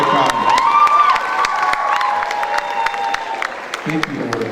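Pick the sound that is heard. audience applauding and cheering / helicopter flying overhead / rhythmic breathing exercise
audience applauding and cheering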